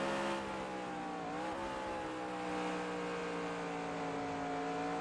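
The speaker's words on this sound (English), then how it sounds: "Listen to Ryan Johnson's car" A race car engine at Walt Disney World Speedway drones with a steady, sustained tone and a brief dip in pitch early on, sounding like a car held at revs or passing in the pits, with no voices heard.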